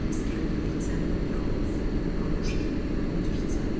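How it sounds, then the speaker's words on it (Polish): An old EP07 1032 electric locomotive idles at a platform in Warszawa Centralna station, giving off a steady, loud low rumble and whir with faint higher chirps over it. "To są przyjemne dźwięki starej lokomotywy."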